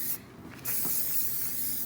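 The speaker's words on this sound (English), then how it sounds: "You can pretty much spray it on anything." Plastic protectant spray hisses from an aerosol can onto a new 2020 Honda CRF110 dirt bike, two long close bursts with a short pause between them.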